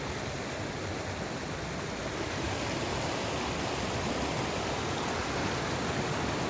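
River flowing beside a hiking trail near Fordyce Falls, a steady broadband rush of water, close and continuous with no gaps and no voices.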